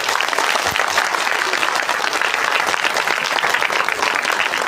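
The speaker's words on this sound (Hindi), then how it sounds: "जोर से बजाएंगे तालियां" An audience at a village Ramlila performance claps loudly and continuously, a thick, even roar of many hands with no pause, close and dominant throughout.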